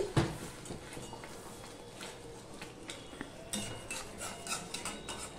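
A spoon gently stirring brinjal curry in a cooking pot, soft scattered scrapes and light clinks over a low simmering hiss, close and fairly quiet.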